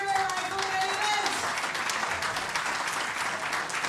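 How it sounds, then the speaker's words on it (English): Applause and scattered cheers rise from a crowd at an air rifle medal ceremony in Wroclaw as a Croatian bronze medalist is honoured, a steady wash of clapping with a voice over it. "Whoops and cheers go up from the Croatians."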